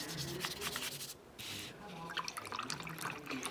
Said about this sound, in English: I like to swirl my brush in that paint with the water on it